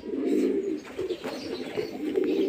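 Pigeons coo in repeated low, throaty phrases close by in a home loft, several soft rolling calls overlapping with a little background rustle.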